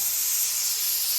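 A pressure cooker full of greens lets out a continuous, loud, hissing steam whistle that holds steady throughout.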